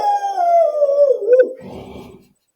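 A dog howls in one long, loud, close drawn-out note that slowly falls in pitch, then trails off into a softer whimpering tail before silence.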